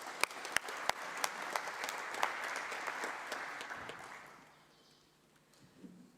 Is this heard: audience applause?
yes